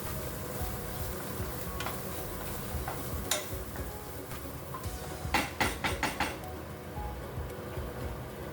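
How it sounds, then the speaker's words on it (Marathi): Masala with curry leaves sautés in oil for an udad dal dish, giving a soft, continuous sizzle broken by scattered clicks and scrapes of a spoon stirring in the pan. "आता थोडंसं हे छान हा मसाला आपल्याला परतायचा आहे तेलामध्ये"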